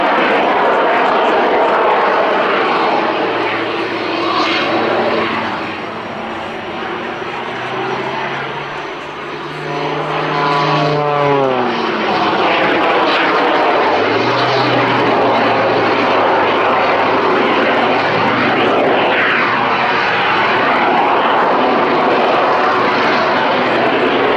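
A Pitts S-2S aerobatic biplane performs a display at the Duxford summer air show, its loud propeller engine roaring close overhead with rising and falling pitch sweeps as it swoops and tumbles through manoeuvres.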